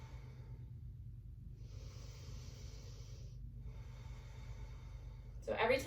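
Slow, deep breathing from a person seated on a yoga mat during practice, soft steady airflow with long inhales and exhales, a brief louder rustle at the end.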